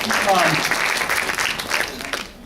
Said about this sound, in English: You keep clapping.